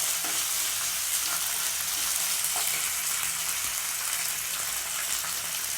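Sliced onions with ginger garlic paste fry in a hot pan for a chicken varuval, a loud steady sizzle and crackle with light stirring scrapes and no talking.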